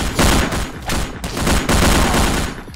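Dense, loud video game gunfire in the shooter El Matador, rapid overlapping bursts of automatic shots that fire without a break, close up and with no speech.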